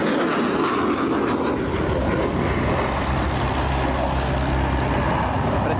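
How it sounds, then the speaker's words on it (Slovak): A jet aircraft engine roaring during a display at the SIAF air show in Slovakia, a loud continuous broadband rumble with rising tones, heard close and alone. "zvuk prúdového motoru je pri pilotátoch najkrajšou piesňou"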